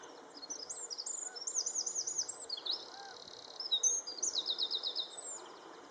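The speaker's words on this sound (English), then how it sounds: "And here I have a little wren. It's one of the first birds that sings" A wren sings bright, rapid trilling phrases in repeated bursts, fairly close, in the morning on a lighthouse walk, over a steady outdoor background with faint insect-like hiss.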